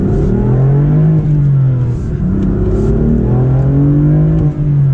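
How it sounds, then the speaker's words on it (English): BMW M4 F82 car engine under acceleration, a loud steady drone that climbs in pitch, eases at a shift and climbs again, heard close with no voices. "All right, so let's do a little acceleration here."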